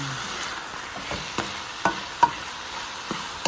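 Onions sauté in a pan for Filipino sotanghon soup, a soft steady sizzle broken by several sharp scrapes and taps of a utensil stirring against the pan, close and fairly quiet.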